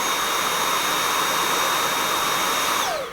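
A Dyson V8 cordless vacuum cleaner runs in normal mode with a loud, steady, high-pitched motor whine and airy rush, heard up close and unbroken, with the pitch starting to drop as it powers down at the end.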